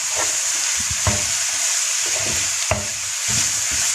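Kefta meatballs with mixed spices stirred in a hot pan, a steady close sizzle broken by a few scraping strokes of the spoon across the bottom.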